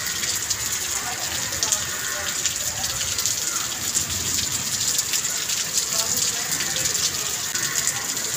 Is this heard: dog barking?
no